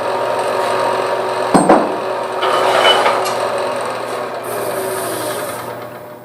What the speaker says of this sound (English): I'm going to use my skew chisel, create a slight dovetail tenon in here